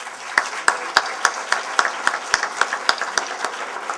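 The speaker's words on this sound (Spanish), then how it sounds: "Un aplauso para ellos, por favor" An audience at a constitutional reform debate in Santo Domingo claps for university students, a modest scattering of distinct, fairly evenly spaced claps rather than a full ovation, continuing for a few seconds.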